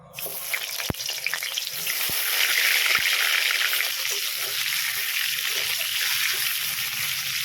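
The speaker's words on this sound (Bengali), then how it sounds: "এবারে নুন হলুদ মাখিয়ে রাখা কুমড়োটাকে একটু ভেজে নেব" Salted, turmeric-coated pumpkin pieces fry in hot oil for vegetable khichuri, a loud steady close sizzle that swells after a few sharp clinks at the start.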